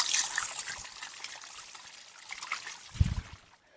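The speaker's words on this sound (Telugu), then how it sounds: "నేనైతే దారిలో వెళ్తుంటే మనకి ఒక మినీ వాటర్ ఫాల్ కూడా కనిపించింది" A small roadside waterfall near Thalakona, Tirupati, trickling and splashing steadily at close range, with a brief heavier low splash near the end.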